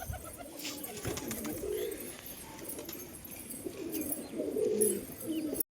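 A pair of pigeons coo close by in repeated soft, low, throaty phrases, with faint background rustle and no speech.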